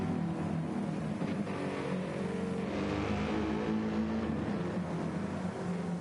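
GT race cars from a racing video game lapping Fuji Speedway through the hairpin, a continuous dense engine drone with revving swells, steady and loud with no speech.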